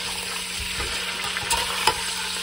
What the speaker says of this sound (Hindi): मैंने डेढ़ किलो चिकन लेग्स लिए हैं अब इनको हम फ्राई करते हैं